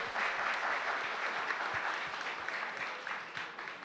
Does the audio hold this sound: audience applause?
yes